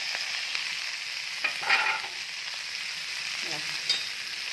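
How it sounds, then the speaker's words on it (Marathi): Steamed fenugreek leaves going into a pan of frying garlic and green chili for a tadka, a steady close sizzle with a few soft stirring scrapes. "आता ही वाफवलेली मेथी टाकत आहे"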